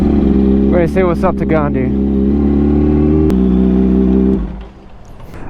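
A big truck's engine drones loud and close behind a cyclist, holding a steady low tone before fading away near the end, while someone speaks briefly over it early on.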